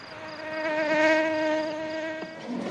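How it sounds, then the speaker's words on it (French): A mosquito buzzes alone in a thin, high, wavering whine that swells louder as it passes close and then eases off. "Mais un moustique."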